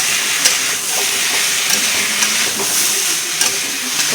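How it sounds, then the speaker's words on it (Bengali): A spice paste of turmeric, salt, green chili and ground cumin sautéed with radish in a pan: loud, continuous sizzling and steamy hiss with occasional scraping stir clicks, close up and no voices. "খুব সুন্দর করে আমি মশলাটা এখন কষিয়ে নেব।"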